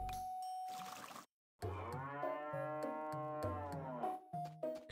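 A series of deep, drawn-out cow moos from the video game Harvest Moon repeat in quick succession with a steady harmonic tone, following a brief noisy burst and a short silence.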